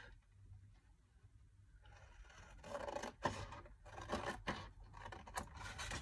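Paper for a handmade card is cut in short rasping, scraping strokes, quiet at first and then louder and closer in several bursts, with no talk.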